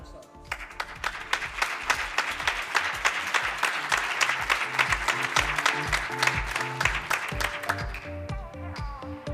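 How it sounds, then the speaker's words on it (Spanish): Applause at a research and innovation awards ceremony, a steady wash of clapping mixed with strong rhythmic beats of music, ending as the clapping thins out. "Un fuerte aplauso."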